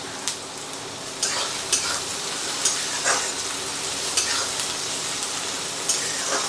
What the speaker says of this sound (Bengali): টমেটো দিয়ে আবার এটাকে 30-40 সেকেন্ডের মতো আমি এটাকে নাড়াচাড়া করে নেব